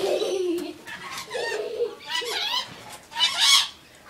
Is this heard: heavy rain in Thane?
no